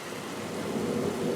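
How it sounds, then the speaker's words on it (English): Thunder rumbles with rain falling outside an open window during a summer storm, a soft, steady low wash that swells slightly toward the end, heard alone without voices. "Ooh, it's thundering now."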